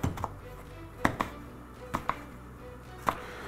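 A knife chops through eggplant onto a cutting board in sharp, separate knocks, about seven in irregular pairs, close and clear against quiet kitchen background.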